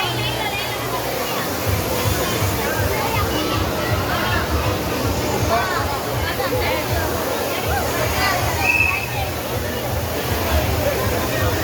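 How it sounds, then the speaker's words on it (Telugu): A waterfall at an exhibition in Vijayawada sends up a steady broadband rush of falling water, with crowd chatter and people talking nearby throughout. "ఇదిగోండి ఫాల్స్."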